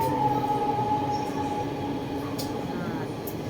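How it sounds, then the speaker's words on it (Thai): A subway train arrives at a station in China, a steady rumbling hum with a sustained tonal whine from the wheels and motor, close and continuous, with brief high chimes near the end. "The train is arriving at Wuqiu."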